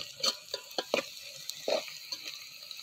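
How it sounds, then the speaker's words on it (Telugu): Country chicken is stirred in a pan with turmeric, giving soft scraping strokes and light sizzling in short, irregular bursts, fairly quiet and close, with no voices. "ఒకసారి కలుపుకుందాం మొత్తం. పసుపు యాడ్ చేస్తున్నానండి."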